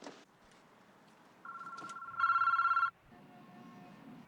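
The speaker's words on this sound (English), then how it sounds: "The phone is ringing now, Sykes." A landline telephone rings in a short electronic burst, loud and close, following a softer tone in a quiet room with no talking.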